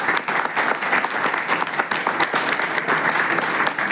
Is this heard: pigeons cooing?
no